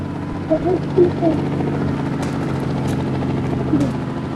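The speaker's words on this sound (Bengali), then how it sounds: "হেলিকপ্টার" A steady mechanical helicopter drone hums continuously with a few short bird-like chirps on top and some talking over it.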